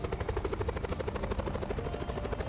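Helicopter rotor thumping in the Black Ops 4 video game, a fast, even chop pulsing steadily throughout with the engine drone underneath, no speech.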